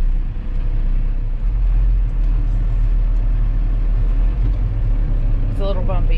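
A Unimog truck driving, its deep steady engine rumble loud and constant throughout, with someone talking over it inside the cab.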